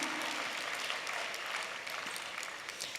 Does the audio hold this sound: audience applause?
yes